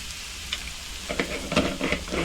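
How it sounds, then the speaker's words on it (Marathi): Chopped bitter gourd sautéed with salt and egg in a hot pan, a steady sizzle broken by several sharper scraping stirs in the second half, close and moderately loud with no voices. "हे सगळं परतून घेते व्यवस्थित"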